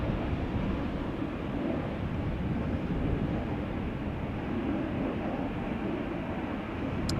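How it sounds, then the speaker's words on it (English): A German Airways airliner takes off from the runway threshold at Amsterdam Schiphol, a loud, sustained broadband jet roar that holds steady and unbroken from start to finish. "German Airways taking off from the threshold."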